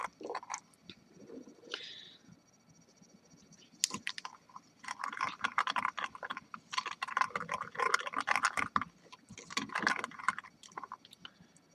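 A homemade coffee and sugar body scrub stirred with water in a bowl, giving close, gritty scraping and squishing bursts that come and go irregularly, louder in the second half, with no talking.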